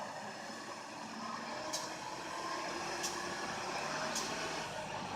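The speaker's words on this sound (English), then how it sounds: "All he's doing is just spinning his tires like crazy." A truck stuck in snow revs hard as its tires spin, a steady, fairly distant engine roar at high RPM with brief sharp squeals, no talking.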